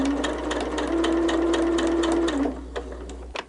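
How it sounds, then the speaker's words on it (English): A sewing machine stitches a quarter-inch seam on a Dresden Plate quilt, a steady close mechanical whir running for about two and a half seconds before slowing and stopping. "you're going to sew what is essentially a 1/4 inch seam"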